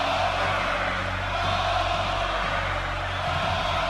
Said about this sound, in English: Listen to your crowd.